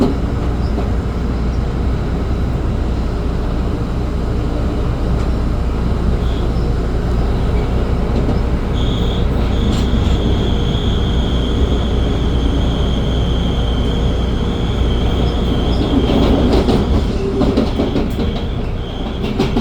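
An eastbound CPKC double-stack freight train with an ET44AC locomotive as its rear distributed power unit rolls past near Dorval. Its loud, steady rumble and wheel clatter last throughout, and a thin wheel squeal rises partway through.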